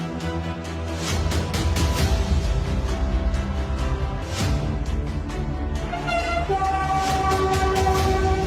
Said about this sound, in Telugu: అండర్ వాటర్ మెట్రో ట్రైన్ ప్రయాణికులకు సరికొత్త అనుభూతిని పంచనుంది.